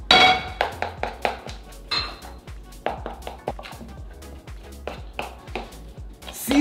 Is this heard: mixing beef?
yes